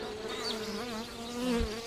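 Young honeybees buzz steadily at close range, a wavering drone with individual bees rising and passing, no voices present.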